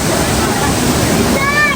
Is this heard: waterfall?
yes